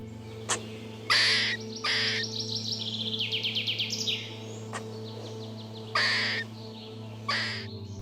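Sharp chattering calls and rapid clicking bursts from a squirrel, coming in short loud spurts with pauses, over a steady low hum.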